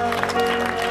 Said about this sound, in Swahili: Pigia Yesu makofi mazuri kabisa.